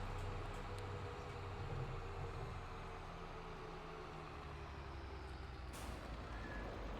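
An in-game truck hauling a bread load in Farming Simulator 22 idles with a low engine rumble, then lets out a sharp hiss of air brakes near the end, with no voices over it.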